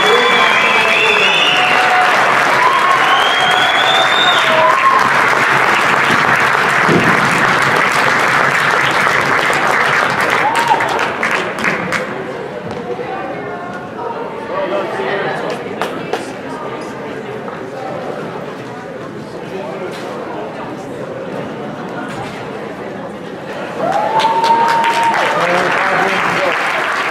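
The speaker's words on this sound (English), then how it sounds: "Let's give these young women a round of applause for their hard work and commitment to the girls basketball program." A crowd applauds young women from a high school girls basketball program, Colfax Vikings, in a gym: loud, steady clapping that dips midway under a hum of chatter, then swells again near the end.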